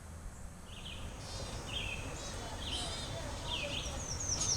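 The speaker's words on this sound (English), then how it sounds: "the sound of the birds" Birds sing outdoors in a series of faint, scattered high chirps and short trills over a low, steady background rumble.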